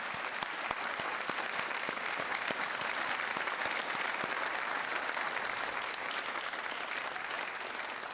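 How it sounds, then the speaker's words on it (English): Applause fills a hall for the 2024 graduating class at a convocation ceremony, a dense, steady clapping from a large crowd that holds at even loudness throughout. "Let's give another round of applause for the class of"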